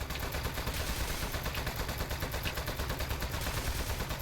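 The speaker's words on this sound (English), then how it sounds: "I'm just shooting every kitchen appliance I'm seeing" Rapid gunfire in the video game Aperture Desk Job, a dense, continuous rattle of shots sustained over a constant rumbling game soundscape, with no speech.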